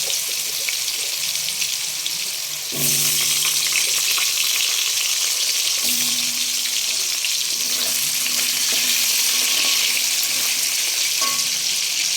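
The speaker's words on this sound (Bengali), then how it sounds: "এখন আমি একটু কালো জিরে ফোড়ন দিয়ে আমি মাছের যে আলু কেটে রেখেছিলাম সেটা আমি ছেড়ে দেবো" Cut potatoes hit hot oil tempered with nigella seeds for a fish curry, setting off a loud, constant close sizzle that swells sharply partway through, with intermittent clinks and scrapes of stirring and no voices.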